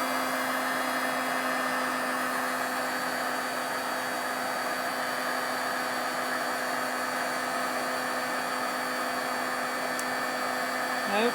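A heat embossing tool blows hot air steadily at close range over a stamped card piece, a constant broadband whoosh with a faint motor hum, running unbroken throughout.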